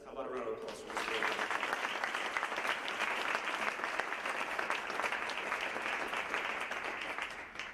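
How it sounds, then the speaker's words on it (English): An audience at a press conference for Iona's athletics director breaks into applause after a brief voice at the start. The clapping is sustained, dense and even, and runs to the end. "How about a round of applause for Mr. Aragone?"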